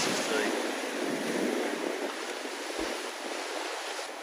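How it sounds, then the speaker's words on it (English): Strong wind buffets the microphone while ocean swell surges against a rocky shoreline, a loud, constant roar of air and water with no clear breaks. "You've got the wind coming one way, you've got the swell going the other way"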